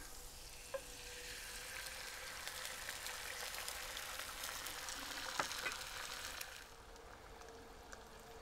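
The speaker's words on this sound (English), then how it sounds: "so I'm going to add the eggs to that portion of the skillet" Eggs frying in butter in a skillet on an outdoor deck: a steady, soft sizzle with a few light taps and scrapes, then the crackle eases slightly near the end; no talking.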